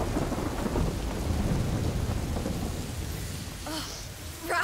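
Thunder rumbles through a heavy rainstorm in the video game A Plague Tale: Innocence, a loud rolling boom over steady rain, with a few brief sharp calls near the end.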